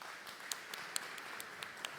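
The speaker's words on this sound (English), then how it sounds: "give the fellas another round of applause" Faint applause for candidates at a county candidate forum, thin and distant, with a handful of sparse individual claps standing out over a soft hiss.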